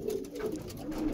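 A pair of pigeons coo softly nearby, a short run of low throaty rolling calls repeating in quick succession over a brief stretch.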